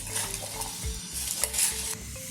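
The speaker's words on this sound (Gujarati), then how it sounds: "પછી હવે બધું સરખું હલાવી લઈશું।" Corn bhel with lemon juice being stirred in a bowl: quick, repeated scraping strokes of a spoon in a steady rhythm, close and moderately loud, with faint clinks of the utensil.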